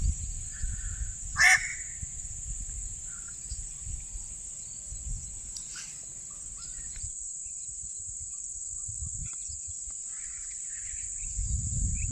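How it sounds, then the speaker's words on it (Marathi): In a quiet village, a single crow caw rings out early over a constant high insect drone, with soft low wind rumble throughout and no voices. "पक्ष्यांची किलबिल"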